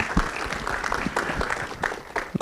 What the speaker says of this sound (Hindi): एक बार बंदा के लिए एक बार जोरदार ताली होनी चाहिए